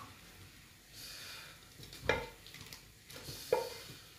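Beef cooking in butter with garlic, a faint low sizzle with soft stirring and two sharp utensil clinks against the pan, no talking.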